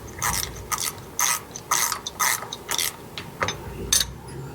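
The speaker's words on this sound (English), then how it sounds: "So I'm just going to tighten up this to get the bushings the right way." A ratchet clicks in about ten quick bursts, tightening steering stabilizer bushings on a P32 Workhorse motorhome; the pawl ticks come in short, evenly spaced runs, close and moderately loud with no talking.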